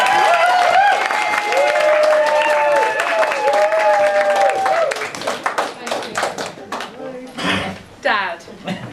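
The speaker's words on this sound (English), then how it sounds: "I'd like to give a big round of applause." Party guests at an 80th birthday celebration break into a round of applause, brief clapping bursts following a speaker's voice, with scattered claps and chatter trailing off.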